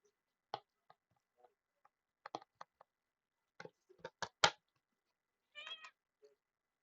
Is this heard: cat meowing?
yes